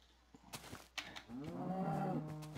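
A cow moos in the Minecraft video game, a long, loud, drawn-out low call after a few short clicks and game sounds, with no talk.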